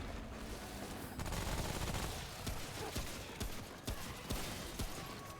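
Gunfire from the video game Remnant: From the Ashes, a rapid scatter of fairly faint shots and bursts over a dense background of game noise.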